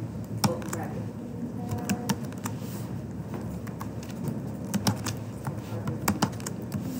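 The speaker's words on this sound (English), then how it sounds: "Now start typing in the HTML that you want to create within the body." Someone types HTML code on a computer keyboard, a steady run of close, light key clicks with occasional louder taps, under faint background noise.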